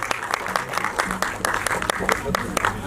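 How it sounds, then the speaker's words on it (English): An audience at a film press conference applauds the star cast, brisk close clapping with distinct sharp hand strikes in an irregular rhythm, fairly loud, with a voice speaking beneath it. "Can we have a huge round of applause for the entire star cast, please?"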